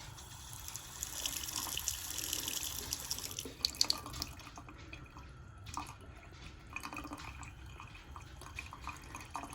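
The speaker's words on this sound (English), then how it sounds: "I'm gonna barely leave the hot water faucet on." A hot water faucet runs in a thin, steady stream, a soft, continuous trickle and splash into the sink heard close and alone at low volume.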